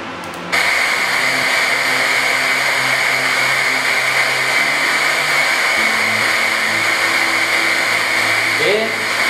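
Pink noise test signal played through an SPL Audio N-850 line array speaker for frequency response measurement: a loud, steady broadband hiss starts after half a second and holds unchanged to the end.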